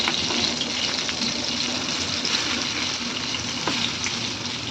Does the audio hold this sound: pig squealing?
no